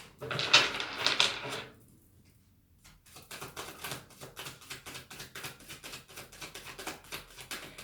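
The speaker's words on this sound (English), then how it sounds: "One more shuffle." A burst of rapid papery riffling of tarot cards, a short pause, then a steady run of soft rhythmic card flicks and taps close by.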